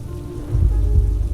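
Steady rain patters over a low rumbling background, growing slightly heavier midway through, with no voices.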